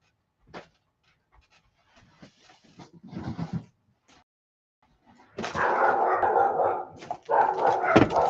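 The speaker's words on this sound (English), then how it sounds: "the pups like to rile each other up" Puppies riling each other up, with scattered panting, yips and short barks early on, then a loud burst of overlapping barking and growling near the end, close by and without talking.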